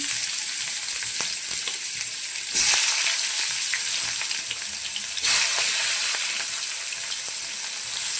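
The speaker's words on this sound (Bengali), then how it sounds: "দিয়ে দিচ্ছি পেঁয়াজ কুচি।" Chopped onion hitting hot oil in a wok seasoned with five-spice and whole cumin, giving a steady, bright sizzle that swells into two louder bursts.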